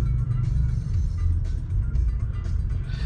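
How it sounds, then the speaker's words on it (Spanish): Steady low rumble of several cars in a slow, congested street, continuous engine drone with no single vehicle standing out, moderately loud throughout. "El congestionamiento interminable."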